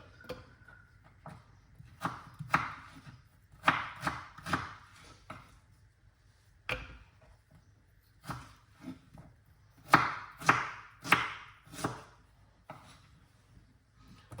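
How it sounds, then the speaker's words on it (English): Fresh ginger being cut up on a wooden board for an apple, ginger and lemon juice, a quiet room with irregular sharp knife chops, some in quick bursts and others spaced apart, close and distinct. "get the ginger cut up, guys"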